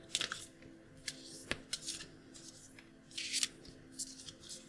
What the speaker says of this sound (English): I'll do a little bit of shuffling.